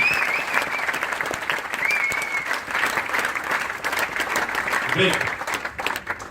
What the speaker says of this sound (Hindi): ताली तो बजानी पड़ेगी दोस्तों